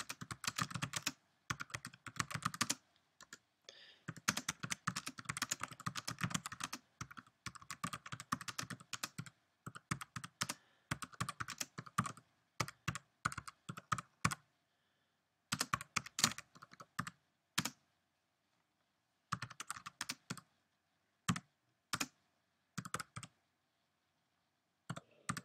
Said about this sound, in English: So if we start to type in here,